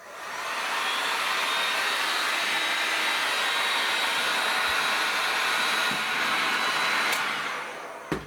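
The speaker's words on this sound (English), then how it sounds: "So I'll get this heated up now. I mean, you can soak these for a few days or whatever you like, but I always find a hot air gun works for me." A hot air gun blows steadily while heating the carburettor of a PAW 40 6.6cc English diesel model engine, a close, constant whooshing roar lasting about eight seconds before clicking off.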